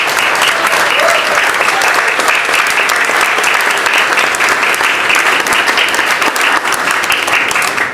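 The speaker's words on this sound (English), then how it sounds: "Let's send up an applause to all our ancestors." Large crowd applauding at a mayoral event, loud sustained dense clapping that holds steady throughout without a break.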